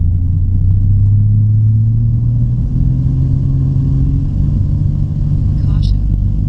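A Sonex light aircraft engine rises in pitch as the throttle comes up for takeoff, a loud, steady droning rumble heard from the cockpit, with a brief chirp near the end.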